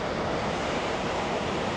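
Heavy spray and rushing water close beside a large waterfall in Oregon, forming a loud, dense, continuous roar with no pauses.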